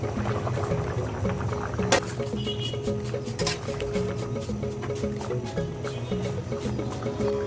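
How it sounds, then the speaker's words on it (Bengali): A pot of snakehead fish and potato curry boiling away, steady bubbling and soft popping with a few louder clinks, close and continuous, no talk. "তরকারিটা ফুটে উঠেছে।"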